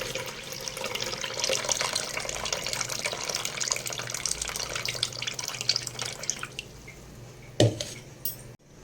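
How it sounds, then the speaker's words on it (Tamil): Water is drained from soaked rice while making vegetable biryani in a kitchen. It pours and rushes in a steady, close stream for several seconds, ending with a couple of light clinks. "நம்ம ஊற வச்சுருக்க அரிசியில் இருக்க தண்ணியை வந்து நல்லா களைஞ்சிட்டு தண்ணியை வந்து வடிச்சிருங்க"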